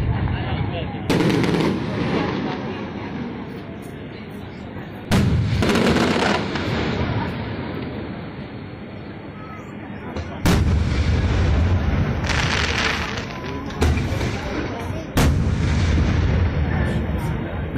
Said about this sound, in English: Yes, I like fireworks.